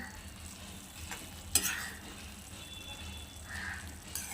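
Bheja masala, a brain curry, gets mixed with chopped coriander in a pan: a soft steady sizzle with a few light scrapes and one sharper clink midway.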